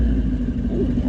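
Brief, loud, steady rumble of a V8 engine in a 2019 Mustang GT, a short burst of deep idle-to-rev sound with no talk over it.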